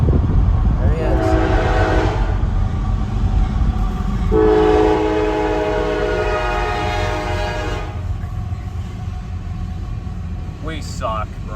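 Union Pacific freight train on the former C&NW mainline through Minnesota and Wisconsin, its horn sounding in two long blasts over steady rumbling wheels, close and loud, with a brief voice near the end.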